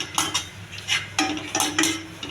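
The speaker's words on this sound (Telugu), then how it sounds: "కిస్మిస్ ఉట్టిగానే వేగిస్తున్నానండి" Raisins dry-roasting in an oil-free pan get pushed around with a metal spoon, making a series of sharp clinks and scrapes in an uneven rhythm, close up, with no talking.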